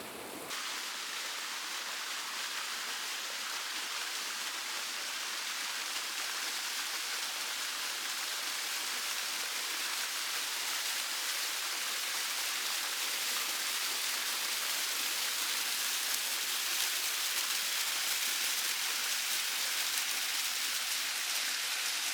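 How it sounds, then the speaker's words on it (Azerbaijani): The Niyal waterfall near Lahij pours in a steady, loud broadband roar of falling water, continuous and unbroken from start to end with no voices. "Və beləliklə gəldik, çatdıq aşağı Niyao şəlaləsinə"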